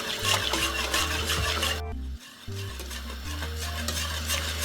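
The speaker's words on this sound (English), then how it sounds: "Let's continue whisking it" Cornmeal porridge being whisked in a pot, close rhythmic scraping and clinking of the whisk against metal over a low humming background, briefly pausing before resuming.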